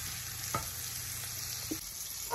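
Chicken sausages frying in a pan with garlic, a steady faint sizzle that runs throughout with a few brief stirring scrapes, quiet and close.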